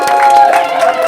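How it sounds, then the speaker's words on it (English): A live event audience cheers and claps, a short, loud burst of crowd noise with a few whoops rising over the clapping. "That is when you cheer."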